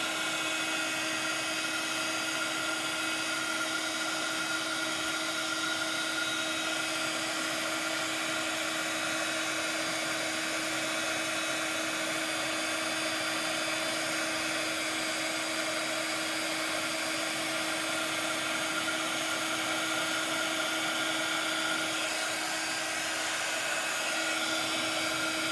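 A handheld heat tool blows steadily under a craft project, a continuous high whirring fan and motor hum that holds unchanged and fairly loud throughout, with no talking.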